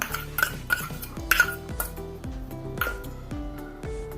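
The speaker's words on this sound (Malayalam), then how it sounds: "സ്പൂണോ ഫോർക്കോ എന്തെങ്കിലും എടുത്താൽ മതി നല്ലപോലെ ഇങ്ങനെ അടിച്ചു കൊടുക്കുക" Eggs being whisked for a drumstick-leaf omelette with a spoon in a metal bowl, heard as a quick, regular series of close ringing clinks and taps, about two strikes per second.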